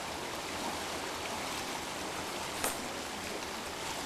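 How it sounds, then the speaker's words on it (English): Water flows steadily through an Alaskan estuary near a boardwalk lodge, a soft, even rushing wash heard at a distance, broken only by one brief tick partway through. "Beautiful, beautiful estuary."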